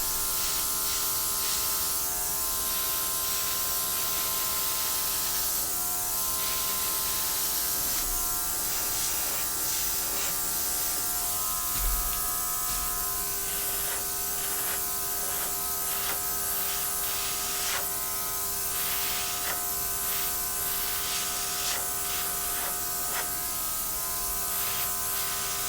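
An air blower pushes poured paint across a canvas for a gold and burnt sienna Dutch pour painting, giving a steady, loud electric whir and hiss with a constant hum that runs unbroken and has no talk.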